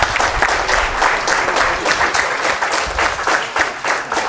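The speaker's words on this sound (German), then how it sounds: "Vielen herzlichen Dank, riesen Applaus" Audience at a Joomla conference talk applauds, a dense, loud burst of many hands clapping steadily for several seconds with slight rhythmic pulsing, no voices over it.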